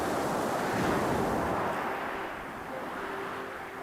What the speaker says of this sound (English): You get the sound of the waves rolling up and down the shingle.